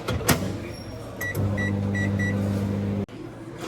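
A microwave oven heats a lunch of rice and chicken in an office kitchen, its low steady hum starting after a clatter and running for about two seconds with a few short beeps before stopping with a click.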